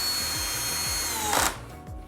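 A cordless drill driving screws whirs in short repeated bursts with a rising whine, close and fairly quiet, ending in a brief louder grinding spurt.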